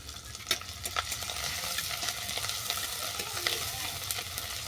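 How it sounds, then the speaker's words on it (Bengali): Grated ginger fries lightly in a pan, giving a continuous close sizzle broken by frequent small stirring scrapes and ticks. "আদাটা হালকা করে ভেজে নেব"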